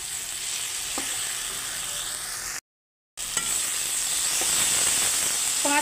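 Okra stir-fried with green chillies in a pan sizzles and hisses continuously and fairly loudly, with occasional soft scrapes of a spatula and a brief cut in the middle.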